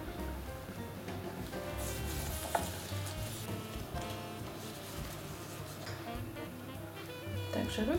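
Oil sizzling in a heated GFGril GFW-025 electric cake mold, a fairly loud steady crackle with faint clicks, while someone talks over it.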